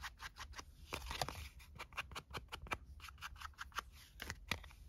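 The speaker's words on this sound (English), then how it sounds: "You can also snip off a tiny bit or round corners if you want to" Scissors snip paper tag corners in a papercraft junk-journal session, a fast, irregular run of crisp, close cutting clicks and paper scrapes continuing throughout, fairly quiet and with no talking.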